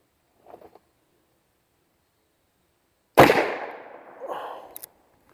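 A single loud, sharp shot from a Taurus 605 .357 revolver with a 3-inch barrel cracks out close by and trails off in a long echoing decay, after a few faint soft sounds and a stretch of silence.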